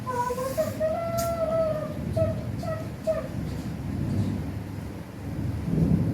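Low rumbling thunder rolls under steady heavy rain in Thane district, Maharashtra, while a child's whimpering cry rises and falls over the storm.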